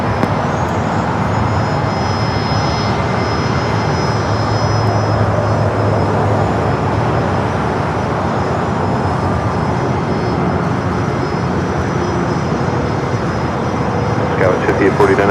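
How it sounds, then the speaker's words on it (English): An American Eagle SkyWest CRJ regional jet taking off at Los Angeles International, a loud continuous engine roar with a faint high whine, steady and broad over the whole stretch. "Next takeoff is American Eagle SkyWest Flight 6348 heading to Sacramento. It's a CRJ."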